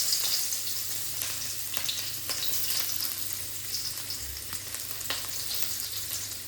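Shallots frying in a pan for fried rice, a steady close sizzle with occasional sharp crackles and stirring scrapes, no talking.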